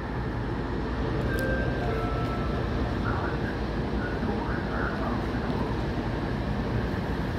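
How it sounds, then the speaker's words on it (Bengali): A local train bound for Chicago Union Station comes to a stop at Prospect Heights station, a steady, moderately loud rumble of engine and wagons with faint high brake tones. "একটি ট্রেন প্রসপেক্ট হাইটসে এসে থামলো।"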